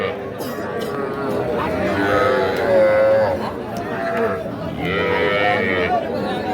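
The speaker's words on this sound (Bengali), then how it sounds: "ষাঁড় বাচ্চা।" A bull calf moos a few times amid a busy crowd of chattering voices and noise at an outdoor cattle market, Ambari Haat, Bangladesh.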